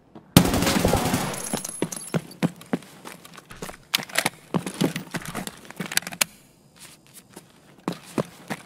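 Gunfire in the shooter Escape from Tarkov crackles in a burst of rapid shots followed by scattered single reports and sharp impacts, moderately loud with game noise between the shots.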